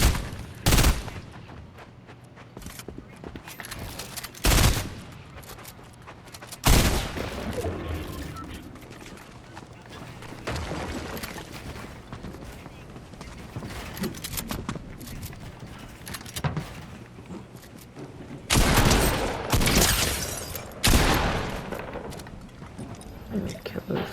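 Burst rifle fire in Fortnite crackles in sharp, loud clustered volleys scattered across the scene, some close and some more distant, over a busy game soundscape with talking in between.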